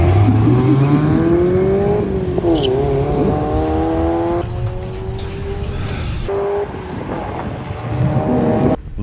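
A Mazda MX-5 drag car named Luna Love launches and races down a drag strip at a festival, its engine revving hard and loud with pitch climbing through the gears, buffeted by wind noise.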